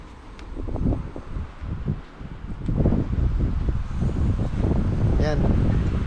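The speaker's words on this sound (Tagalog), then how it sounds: "Lakas ng hangin." Strong wind buffets the microphone outdoors within sight of distant houses, a continuous low rumbling roar that gusts and swells, with people talking intermittently under it.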